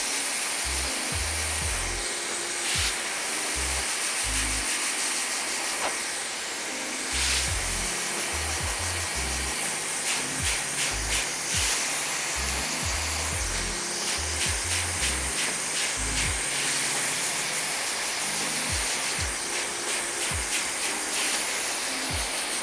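A hair dryer fitted with a fine nozzle blows steadily up close while styling hair on top of the head, a continuous loud rushing whoosh with no talk.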